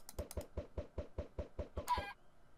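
Two video game chickens, penned in a Minecraft-style enclosure, give a quick, quiet run of about ten rhythmic clucks and knocks, followed by a brief squawk before they fall silent.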